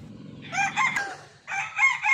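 A young Boston Millionaire gamefowl rooster crows close by in two bursts, a raspy early-maturing crow with soft low clucking at the start.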